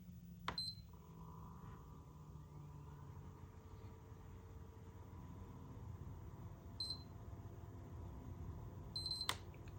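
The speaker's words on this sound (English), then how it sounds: "you hold it down until it beeps twice" A PS3 console gives faint, short, high beeps, spaced seconds apart, while its button is held, over a low, steady room hum.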